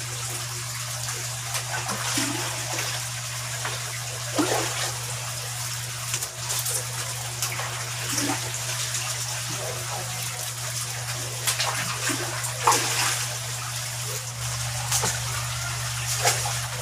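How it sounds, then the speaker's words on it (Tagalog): Water sloshes and splashes as a bucket scoops it out of a small wooden koi pond during draining, in intermittent pours over a constant pump hum. "Para mas mabilis yung pagtanggal natin ng tubig ito, gagamitin na lang po natin itong timba."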